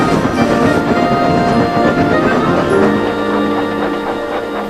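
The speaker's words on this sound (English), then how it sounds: "What a fast engine Caitlin is" Cartoon steam engine running along a railway track in a Thomas & Friends story, a loud rhythmic rolling clatter that thins out near the end.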